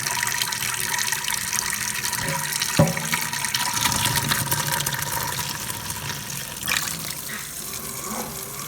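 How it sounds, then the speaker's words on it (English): Cold tap water runs steadily over beans being rinsed in a kitchen sink, a constant gushing wash with a few brief clatters along the way, no talk. "Drain and rinse your beans in cold water."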